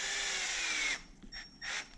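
A power tool whirs steadily for about a second while driving screws into an Arrma LSD RC car differential, then gives a few shorter spurts as the screws seat; close up and fairly loud, with no talking.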